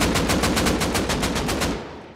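Rapid automatic gunfire in the survival game Rust Console Edition, a sustained burst of evenly spaced shots rattling for about two seconds at close range and tapering off at the end, with no talking.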